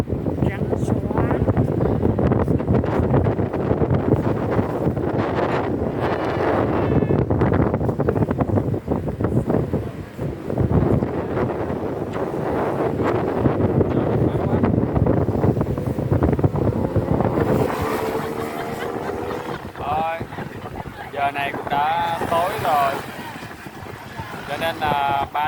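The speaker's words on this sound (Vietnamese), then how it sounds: "Gió biển về đêm, gió thổi lớn là sóng đánh tung lên trên bờ luôn" On a beach at night, a strong sea wind roars and gusts against the microphone as waves crash onto the shore, steady and loud throughout, with people chatting over the noise.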